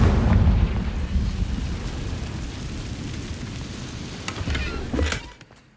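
Confringo blasting spell from the video game Hogwarts Legacy, a loud booming explosion up front followed by a crackling, rumbling tail and a few sharp debris bursts before fading.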